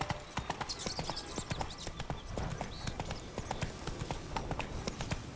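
Roach the horse's hooves clip-clopping in The Witcher 3: a quick, continuous patter of hoofbeats, fairly close, over a busy background with faint voices.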